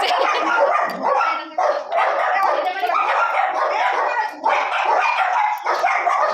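Several dogs bark loudly and continuously at close range, with yips and whimpers, while children's shouting and other voices blend into the noisy commotion.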